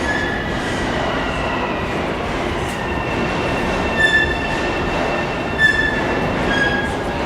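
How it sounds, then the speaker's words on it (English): An M7 subway train pulling into a New York station: a loud, continuous rumble of wheels with high squeals rising over it, no talking. "So you can hear an M7 pulling in."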